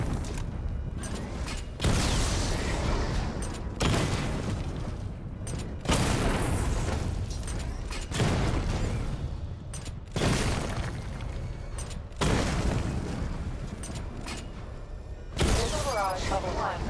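Missile barrages explode during a Batman: Arkham Knight weapon diagnostic test, with repeated bursts of heavy booms and crashing impacts about every two seconds under game sounds.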